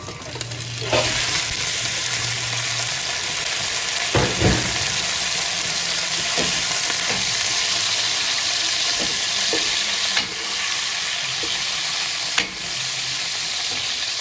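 Minced meat hitting hot coconut oil in a pan for lasagne, a loud continuous sizzle and crackle close up, broken by a few sharp spoon clanks and scrapes from stirring.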